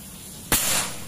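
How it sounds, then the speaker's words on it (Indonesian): A single sharp crack of a PCP air rifle, a classic big-game build with a 50 cm Yumaja barrel, Monel OD 27 and 4000 psi, striking a brick, followed by a brief scattering hiss of debris; no talk. "Sekarang kita lanjut untuk menembak batu bata."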